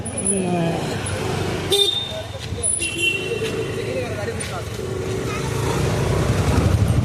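A vehicle horn honks briefly amid busy road traffic, with engines rumbling and people talking nearby throughout.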